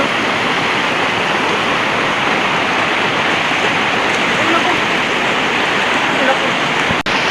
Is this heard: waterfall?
yes